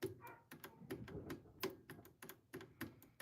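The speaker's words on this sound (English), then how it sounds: "you probably hear my dogs barking in the background" Dogs bark faintly in the background of a quiet room, mixed with sharp clicky tapping like buttons or keys being pressed in irregular bursts.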